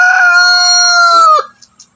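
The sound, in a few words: chickens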